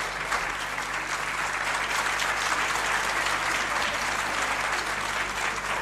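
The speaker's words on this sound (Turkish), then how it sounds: "Ben alkışlanıyorum." A studio audience claps in steady, dense applause that stays loud and even from start to finish, with no talking over it.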